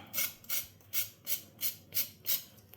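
Skin scraped off a large drumstick (moringa pod) with a knife: seven even, close rasping strokes about every third of a second, crisp and dry, with no voices.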